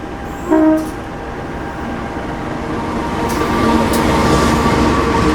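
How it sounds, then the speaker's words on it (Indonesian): A brief horn blast sounds, then the Mutiara Timur passenger train rumbles steadily closer, its low roar building as it pulls onto track 1 at the station nearby. "Nah, ini kereta api Mutiara Timur masuk jalur 1."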